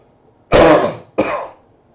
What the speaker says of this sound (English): I just totally coughed in your ear.